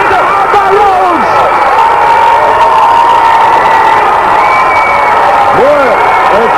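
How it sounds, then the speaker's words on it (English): A large arena crowd at a 1988 NWA wrestling match between Kevin Sullivan and Dusty Rhodes roars and cheers wildly in a continuous loud wall of noise, with whistles and shrill yells cutting through. "the crowd goes wild"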